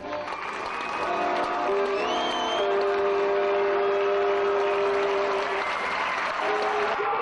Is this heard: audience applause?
yes